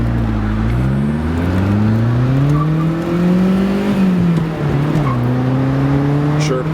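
A classic Saab 900 accelerates hard through the gears, its engine note climbing and shifting with a brief tire chirp in second, heard from inside the car under light talk.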